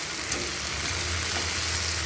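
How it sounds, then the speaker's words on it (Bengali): Koi fish fry in oil rendered from koi fish, giving a steady, dense sizzle and spatter that stays even and close throughout, with no voices. "কইয়ের তেলে কই মাছ ভাজা"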